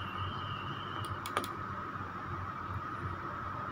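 A computer mouse clicks a few times, quick and soft, during online video editing, over a steady quiet room hum.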